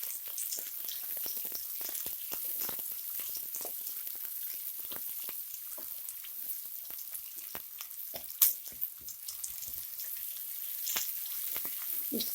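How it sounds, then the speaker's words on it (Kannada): Onions frying in a pan with garlic for veg noodles give a steady, quiet sizzle with crackling spatters and an occasional clink of stirring, close and continuous. "ಸ್ವಲ್ಪ ಫ್ರೈ ಆಗಲಿ."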